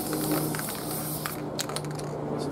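A spray can dusting a light coat of textured paint onto a part outdoors in hot weather, a steady close hiss running throughout with a few small clicks near the end.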